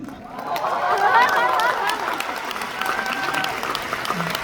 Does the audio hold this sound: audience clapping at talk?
yes